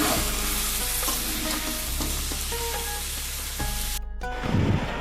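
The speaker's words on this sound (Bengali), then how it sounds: "কিন্তু এখন এই চিকেনটা বসিয়ে দিয়েছি।" Marinated chicken cooking in a pan, a steady loud sizzle and frying hiss with occasional stirring scrapes, ending in a brief louder rattle near the close.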